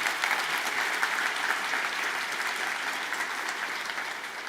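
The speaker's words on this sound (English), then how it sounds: "Can we all give her a round of applause for what she did?" A keynote audience at a tech conference in London breaks into steady, full applause that holds at an even level from start to finish, with no voices over it.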